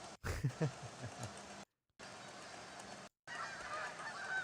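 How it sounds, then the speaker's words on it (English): Several geese honk loudly and repeatedly, a harsh clamor with brief gaps of silence between bursts. "Those are geese."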